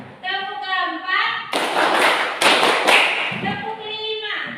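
Schoolchildren clapping together in a counted pattern led by their teacher, a few loud, close unison claps framed by chanted counting.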